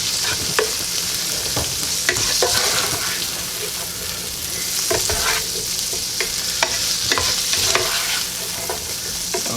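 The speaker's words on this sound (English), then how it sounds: "So you want to cook your green beans till they're tender." Green beans with garlic sizzle steadily in a hot pan while a utensil scrapes and stirs them, giving a constant frying hiss broken by frequent light clinks and scrapes.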